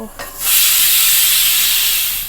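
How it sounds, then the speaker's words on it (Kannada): A pressure cooker whistle releasing steam while dal cooks, a loud steady hiss that rises sharply after a brief faint start and holds strong without a break. "ನಾನೀಗ ಒಂದೇ ವಿಸಿಲ್ ಹೊಡ್ಸ್ಕೊತೀನಿ"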